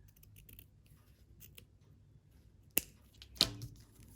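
Scissors trimming a crochet yarn tail on a Christmas top hat, two crisp separate snips close by against a quiet background.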